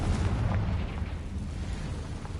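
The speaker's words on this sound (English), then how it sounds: "Confringo!" The Confringo blasting spell goes off in Hogwarts Legacy, a deep rumbling explosion with a low boom that slowly fades.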